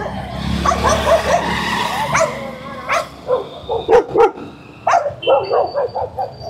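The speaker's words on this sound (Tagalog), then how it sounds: "Nagtahulan na lahat ng aso." Several dogs barking on an evening street walk in Nepal, a run of sharp, close barks coming in quick bursts over a background hum of traffic.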